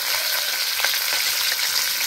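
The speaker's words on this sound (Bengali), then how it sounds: "তেলে দেওয়ার সাথে সাথে কপিটা ফুটছে" Loud, steady sizzling of cauliflower frying in hot oil, a continuous crackling hiss close by with no voices.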